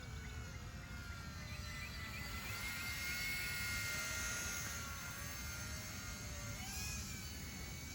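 A JJRC M05 or Eachine E130 mini RC helicopter flies steadily at a distance, its small rotor giving a continuous thin whine that wavers in pitch as it moves. No one is talking.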